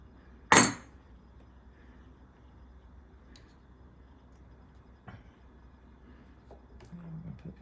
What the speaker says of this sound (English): squeeze this clamp. It'll clip back together.